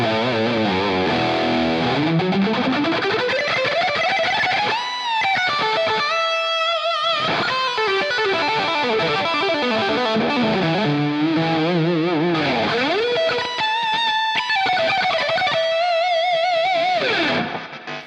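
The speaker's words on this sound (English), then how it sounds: "Again, very nice Marshall sound, my favorite." Distorted electric guitar through a TONEX Marshall 800 lead amp tone model, playing sustained lead lines and bends with full, continuous loudness and no talking.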